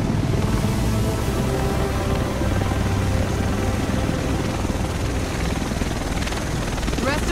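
A helicopter arrives in the PS4 game Tom Clancy's The Division, its rotors producing a loud, steady, close roar that fills the whole stretch without letting up.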